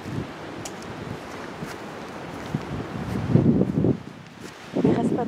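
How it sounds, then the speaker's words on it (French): Gusty wind rumbles and buffets through an abandoned restaurant, with low swells surging louder toward the end and faint rustles and creaks over a steady breathy hiss. "il y a des putains de bruits à cause du vent"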